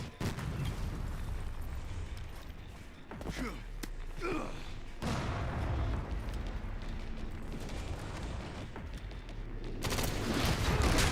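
Mortar fire in the video game Resident Evil: Requiem: repeated heavy booms and thuds with rumbling, crackling debris, loud and close over several seconds.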